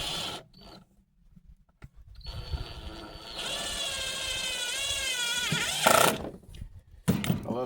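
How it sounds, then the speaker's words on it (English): A power drill drives self-tapping screws in close, loud bursts: a whining motor that rises and strains as each screw bites, brief pauses between runs, and a final short burst at the end. "I love self-tapping screws."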